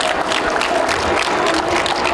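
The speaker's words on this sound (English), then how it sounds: "Let's give them a round of applause" Dense applause from an audience at an International GT race awards gathering at Daytona, a steady, loud wash of many hands clapping with no voices standing out over it.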